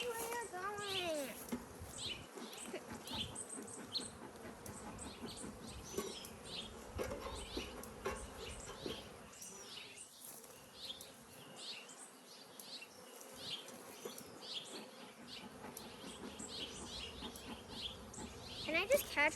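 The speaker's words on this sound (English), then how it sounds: "Whoa, so many bees and so much honey." Honey bees swarm and buzz loudly around an opened hive during an inspection, a dense, steady drone close by that lasts the whole stretch, with a child and an adult talking over it at times.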